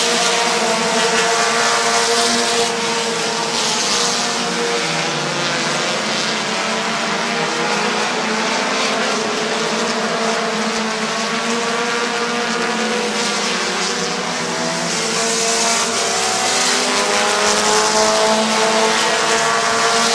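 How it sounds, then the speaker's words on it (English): Race cars roar around the Midvale Speedway oval in a dense, sustained engine drone that swells and fades slightly as the pack passes, loud and continuous with no talking. "Brent Schreffler driving away on a Monday afternoon. 5 laps to go."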